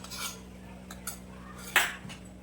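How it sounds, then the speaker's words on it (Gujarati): A spoon clinks and scrapes against a pan while garlic tempering is stirred into pav bhaji vegetables, a few light metallic taps and one sharper knock, close and quiet, with no talking. "અને એને બરાબર મિક્સ કરી લઈશું"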